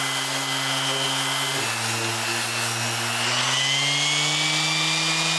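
A power sander runs across an oiled wooden table, a loud, steady motor whine that dips in pitch partway through, then holds on, with no talking.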